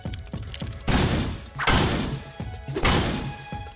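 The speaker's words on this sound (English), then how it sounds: "These baby smashing hammers are great." Sledgehammers smash in a cartoon scene, three heavy crashing impacts roughly a second apart, each bursting loud and broad before decaying, with lighter knocks and thuds between them.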